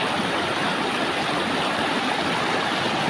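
Continuous rushing water, a broad steady hiss of the Palakol River flowing close by without pauses or voices.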